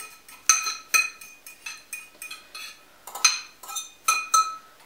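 Chia, goji and ground cherry mixture being spooned into a pot, a close run of light metallic clinks and taps in an uneven rhythm, about a dozen strikes with no talking.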